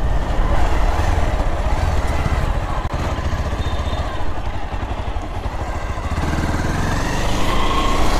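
A used second-hand 220 motorcycle ridden with a wheelie attempt, its engine revving close and rough with a rattling clatter throughout.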